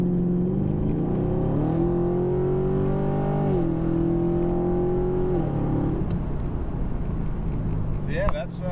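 Chevrolet Camaro SS pulling hard, its engine and exhaust rising in pitch through gears in a close, sustained roar, then easing off to a lower drone near the end.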